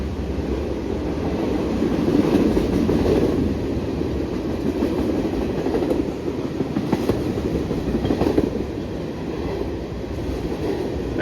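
A freight train rumbles past close by as its locomotives pass underneath, a loud continuous roar of engines and rolling wheels with faint rhythmic clatter and no talking.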